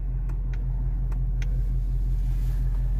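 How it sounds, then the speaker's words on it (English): Cars passing by on a road, a steady low engine rumble and tire hum with a few brief brighter swishes as vehicles go past, continuous throughout. "Man, why so many cars?"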